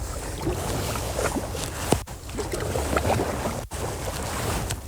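Kayak paddle working the water during an edge turn, splashy strokes and rushing water under steady wind buffeting the microphone, with two brief dropouts.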